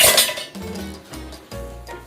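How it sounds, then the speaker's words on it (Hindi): A spoon scraping and clinking in a pan while semolina and gram flour roast in ghee, a few close, distinct stirring strokes and knocks against the metal. "अब हम हिलाते रहेंगे और बेसन और सूजी को दोनों को अच्छे से भून लेंगे।"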